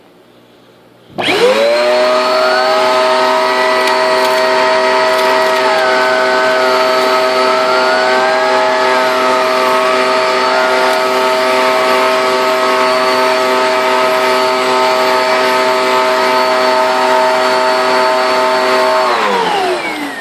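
A Eureka Airspeed Ultra stick vacuum cleaner switches on and picks up granola, running with a loud, steady motor whine for nearly twenty seconds, its pitch wavering slightly before it stops.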